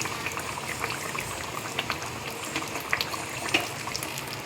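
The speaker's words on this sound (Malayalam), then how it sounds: "ഇപ്പം ഇത്തിരി തിളച്ച് വരട്ടെ, ഒരു 5 മിനിറ്റ് തിളച്ച് വരുമ്പോൾ ശരിയാവും." Manthal fish curry bubbling in a pot, a steady soft simmer of small popping bubbles with faint crackles, heard up close and alone with no voices.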